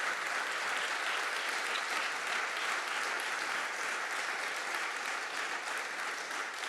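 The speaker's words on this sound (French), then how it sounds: "Je pense qu'on peut l'applaudir." An audience at a panel debate applauds, a fairly faint, even wash of clapping that holds steady across the whole stretch, sounding somewhat distant in the hall.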